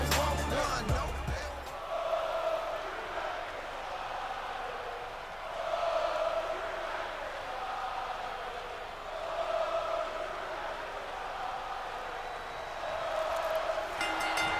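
A wrestling arena crowd in the video game WWE 2K24 chants and cheers in rhythmic swells, a steady wall of noise with periodic rises, under light commentary.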